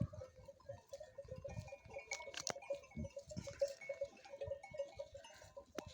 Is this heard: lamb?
yes